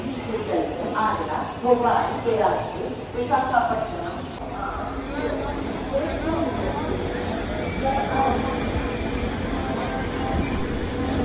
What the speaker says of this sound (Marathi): ही आली आपली लोकल गाझियाबादला जाण्यासाठी